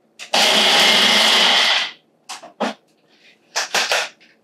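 A Ninja blender pulses banana, peanuts and other dessert ingredients: one loud whirring burst of about a second and a half, then several short, close pulses separated by silence.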